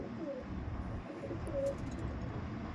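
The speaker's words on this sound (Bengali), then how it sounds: "চেন্নাইয়ের একদম পিওর পায়রা এটা" Andhra Madrasi pigeons in a loft give soft, low cooing calls, a few brief coos rising over a steady background rumble.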